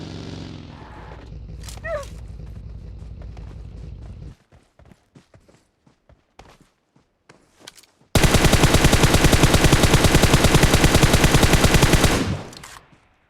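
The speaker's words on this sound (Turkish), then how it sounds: "Yine fişek attılar ha o." Fireworks going off outdoors: scattered sharp pops, then a long dense crackling barrage of rapid bangs lasting several seconds before fading, loud and near.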